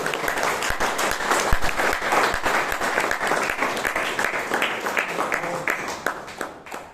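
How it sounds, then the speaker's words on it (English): A crowd at a Toastmasters meeting in Bangalore applauds steadily for several seconds, dense clapping that holds even and then tapers off at the end. "please give him a huge round of applause"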